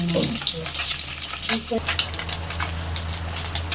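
Onions frying in a pan, giving a loud, steady crackling sizzle close by, with a few stirring scrapes early on and continuous frying noise after.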